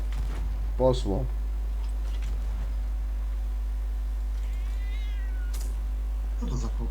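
Cat meowing in the video game Sea of Thieves, a short meow followed by a rising, wavering cry, under steady low hum and game sounds, with players talking in between.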